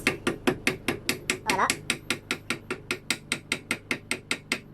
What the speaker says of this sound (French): vous avez pris un marteau avec un bout un peu arrondi, là, vous pouvez y aller tranquillement, taper un petit peu